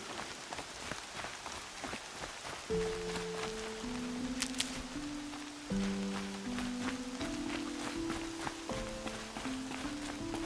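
Rain falls steadily in the game Horizon Zero Dawn, a constant close patter and hiss on surfaces that lasts the whole stretch beneath sustained low musical tones.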